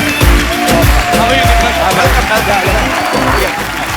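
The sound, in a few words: studio audience applause welcoming guests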